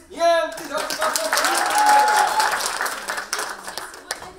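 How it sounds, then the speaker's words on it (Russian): Applause at a children's New Year concert, with a crowd clapping steadily beneath a loud voice over a PA, fading slightly toward the end. "Аплодисменты!"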